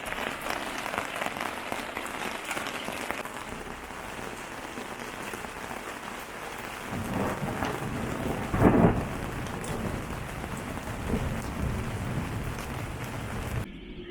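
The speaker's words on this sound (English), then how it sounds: "We've just got a thunderstorm going on across Amble" Steady rain hisses throughout a thunderstorm over Amble while low thunder rumbles in, swelling to a louder crack partway through before settling back to rain.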